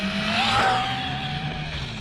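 ARRMA Mojave GROM 3s RC car with a Hobbywing setup driving fast, a high whining motor and spinning, squealing tires, loud and steady, rising slightly and then holding.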